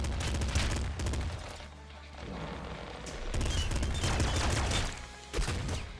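Assault rifle fire in the game Nuclear Throne, heard as rapid bursts of gunshots with short pauses between them and some heavier booming hits, loud and alone.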